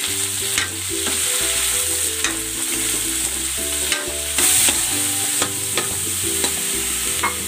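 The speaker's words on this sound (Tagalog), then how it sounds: "Igigisa ko na itong cauliflower at ang mushroom." Cauliflower and mushroom sauté with onion in a hot pan, a loud steady sizzle with regular stirring scrapes, while background music plays underneath.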